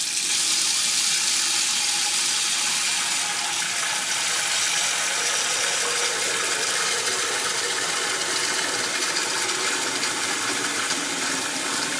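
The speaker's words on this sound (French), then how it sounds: "mettez de l'eau tiède dans votre bassine" Lukewarm water pouring steadily into a basin for a foot bath, a loud continuous close gushing rush with no break and no talk.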